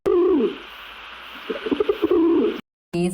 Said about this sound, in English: L for owl.